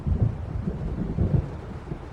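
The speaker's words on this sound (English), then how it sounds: "It seems there's a storm coming." Low, rolling thunder rumbles through a stormy night in the video game Alan Wake Remastered, with a dense, steady roar of wind and rain and a couple of heavier swells.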